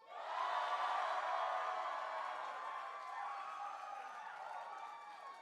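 A crowd at an a cappella competition lets out a loud, sustained cheer with whoops and some clapping, swelling quickly and then gradually tapering over several seconds.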